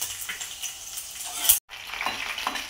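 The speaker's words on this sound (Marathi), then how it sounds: "तेलामध्ये 1 मिनिटभर परतून घेऊया।" Green chillies fry in hot oil in a wok, giving a steady close sizzle with small crackles and a brief drop to silence midway.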